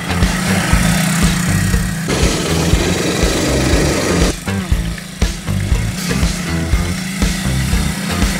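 A gasoline MXF Thor 90cc quad bike runs with a steady, buzzing small-engine drone that shifts in pitch and roughness as revs change, loud and close throughout.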